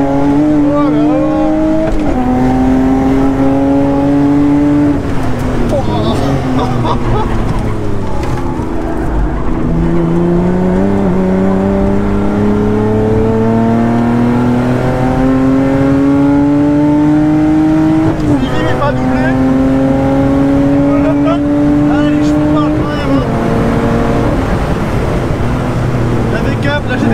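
GT3 race car engines roar on a racing circuit, a loud near engine rising in pitch through repeated gear changes with several climbing sweeps, while voices talk over it.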